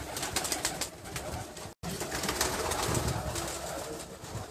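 Pigeons on a rooftop coo with soft throaty calls, close and fairly loud over a busy outdoor background, broken by one brief cutout partway through.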